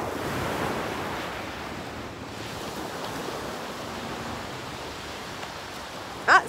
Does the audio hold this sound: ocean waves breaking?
yes